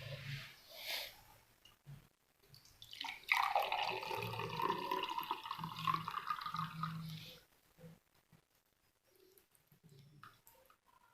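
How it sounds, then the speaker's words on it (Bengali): Soaked herbal mixture being strained, liquid pouring and dripping steadily for about four seconds in the middle, with faint background murmur before and after. "তা আমরা ছেঁকে নিচ্ছি।"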